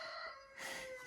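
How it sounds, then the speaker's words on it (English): Rooster crowing nearby: a single short, strained call with a bright harmonic tone rising into a harsher burst, fairly faint and alone without talk. "And apparently maybe my rooster likes it too."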